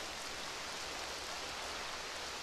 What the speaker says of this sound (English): Just listen to that rain. Not even music, it's just rain.